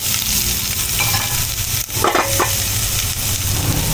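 Chayote sautés in a frying pan with onion and garlic, giving a steady loud sizzle throughout, broken by a few stirring scrapes near the middle, close up and without speech.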